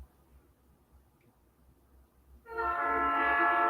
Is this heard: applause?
no